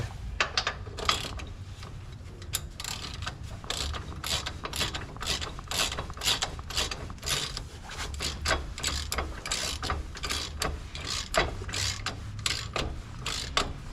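Ratchet cinching bolts on a panhard bar install on a 5th Gen 4Runner, giving rapid clicking strokes in repeated bursts up close, with light metallic handling between them.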